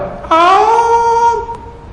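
A person's voice imitates a cat's meow, one drawn-out mewing call that rises and then holds steady, close and clear.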